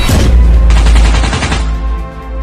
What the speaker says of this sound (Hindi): और फिर बाबा रेड क्रिमिनल और बनी बंडल के ऊपर गोलियों की बरसात कर देते हैं।